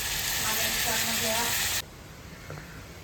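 Onion, tomato and chillies sizzle loudly in hot oil in a pan, a dense steady frying hiss that cuts off abruptly partway through, leaving quiet room noise with a faint clink.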